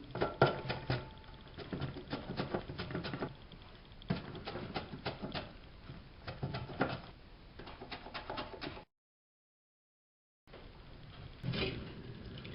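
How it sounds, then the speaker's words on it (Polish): Repeated quick scraping swipes of mushrooms sliced across a mandoline blade, a steady rhythmic pattern with soft clatter, a brief pause, then a few more strokes. "Ja wykorzystam taką prostą szatkownicę"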